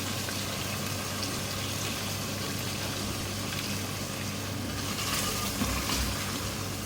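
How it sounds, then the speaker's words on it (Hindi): Beef stock, the water the beef was boiled in, poured into a pot of degi aloo gosht, heard as a steady gushing, bubbling wash of liquid with a faint stove hum underneath. "थोड़ा सा पानी डाल रही हूँ मैं बीफ का ही"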